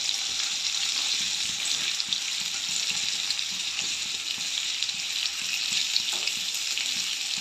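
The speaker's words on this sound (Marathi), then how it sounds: "फ्लावर आणि बटाटा जरा कलर चेंज होईपर्यंत तळून घ्यायचं" Cauliflower florets and potato pieces fry in hot oil with a steady, dense sizzle that holds at an even level throughout, close and fairly loud, with faint scraping hints of stirring.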